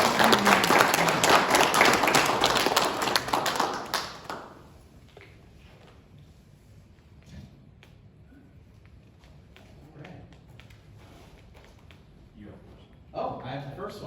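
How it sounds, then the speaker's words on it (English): Loud applause from an audience fills a room with an uncarpeted floor at a scouting awards presentation, then stops abruptly. Quieter murmuring and room noise follow, and a short burst of clapping returns near the end. "give yourselves a round of applause that is deafening"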